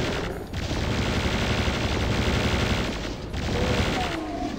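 Plasma gun from Doom II firing in a rapid, sustained stream of buzzing shots, loud and close, with brief pauses, inside a video game map.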